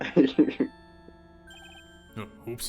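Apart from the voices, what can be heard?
phone ringtone in Ace Attorney Trials and Tribulations video game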